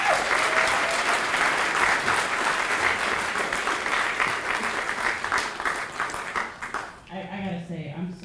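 Sustained applause from a campus award-event audience for student performers, dense and steady throughout before fading out near the end as a voice begins speaking.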